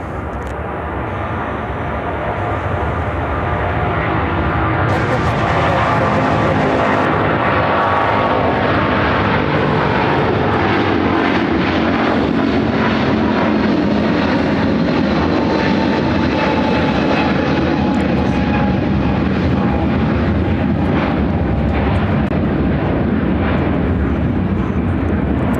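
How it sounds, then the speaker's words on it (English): A United Airlines Boeing 777-200 takes off from runway 28 right at O'Hare, engines building from a rising whine into a powerful, sustained roar that swells and holds loud and near throughout. "Now taking off runway 28 right, United Airlines 609, taking off to Los Angeles on a 777-200."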